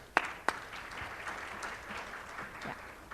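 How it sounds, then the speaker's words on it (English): Applause from a symposium audience for a plenary speaker: a couple of sharp claps at the start, then steady, moderately loud clapping from a room full of people that carries on for a few seconds. "let's give Dr. Webb a very big round of applause"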